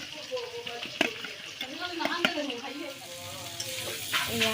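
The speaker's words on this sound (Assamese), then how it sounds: "মাই পটল ফ্ৰাই কৰি আছে।" Pointed gourd fries in a pan with a steady sizzle and occasional stirring scrapes, while faint voices sound in the background.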